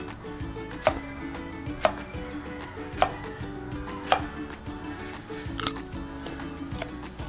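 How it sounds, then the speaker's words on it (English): Carrots are chopped on a chopping board in a home kitchen, with a knife striking the board in sharp, evenly spaced thuds about once a second, close and clear over low background hum. "Then we chop our carrots."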